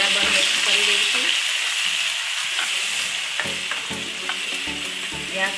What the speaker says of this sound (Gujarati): જ્યાં સુધી બરાબર સાતળાઈ ના જાય ત્યાં સુધી આપણે તેને ધીમી ફ્લેમ પર હલાવતા રહીશું